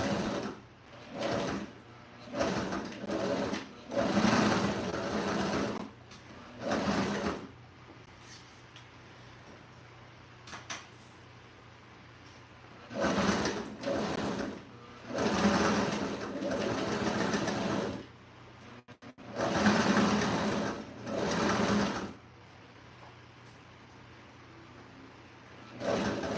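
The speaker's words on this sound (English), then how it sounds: "I'm going to double stitch, come back down, and then turn my foot this way" Sewing machine stitching a cozy bed pillow, running in repeated bursts of a few seconds each with quiet pauses between, steady and close.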